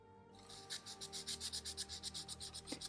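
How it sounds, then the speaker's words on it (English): A copper wire earring being rubbed with 800 grit sandpaper, a soft rhythmic scratching of rapid back-and-forth strokes, close but quiet, with a faint steady hum beneath and no talking. "I've decided to give it a bit of a rub with some sandpaper"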